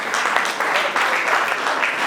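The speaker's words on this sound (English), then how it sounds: "I want to clap for this director especially." Audience applause for a film director at a movie premiere, a short burst of dense crowd clapping lasting about two seconds.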